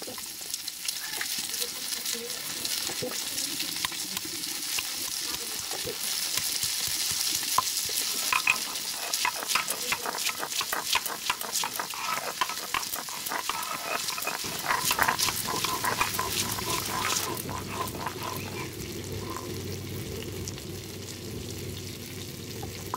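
A briquette fish, about 3 kg, frying in oil in a pan, a continuous crackling sizzle with dense spitting pops that ease into a steadier hiss toward the end.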